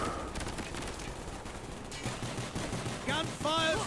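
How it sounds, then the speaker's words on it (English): Rapid bursts of automatic gunfire from the video game Call of Duty: Black Ops rattle through a chaotic firefight, mixed with impacts and debris, before voices shout over the end. "Gunfire ruptured the canister!"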